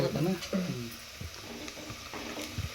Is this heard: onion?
yes